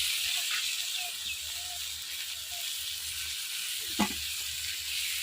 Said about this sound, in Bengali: চিংড়ি মাছ ভাজলে তো ফেনা উঠছেই